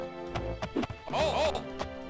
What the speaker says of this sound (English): A freaking horse! Yeah! It gallops around like a maniac.